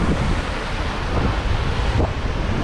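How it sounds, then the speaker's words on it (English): Ocean waves break on a beach of very blue water with heavy surf, a steady broadband roar with wind buffeting the microphone and no voices. "water this blue and with this many waves"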